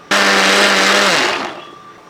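A mixer grinder roars on abruptly, loud and close, whirring steadily through plantain snack batter for about a second before winding down and fading out.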